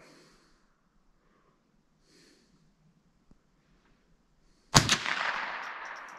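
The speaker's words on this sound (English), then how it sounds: "I want you to shoot 3 shots for the center" A single sharp crack from a Marlin .22 rifle fired at a paper target, loud and close with a short ringing tail, after a few seconds of near quiet and faint breathing.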